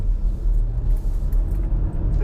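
Porsche Macan Turbo engine rumbling low and throaty while driving, a steady close-up drone heard from inside the cabin with no talk over it.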